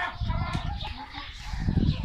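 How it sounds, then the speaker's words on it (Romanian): A hen clucks softly near the microphone in a backyard poultry yard with ducks, the short throaty calls mixed with rustling and low background noise. "cea mai frumoasă găină."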